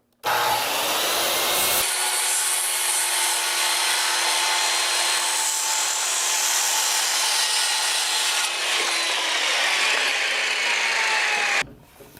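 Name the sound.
power saw cutting a wooden roof rafter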